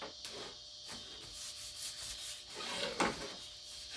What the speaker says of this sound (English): we'll get all this nice and sanded, and we'll get ready to stain it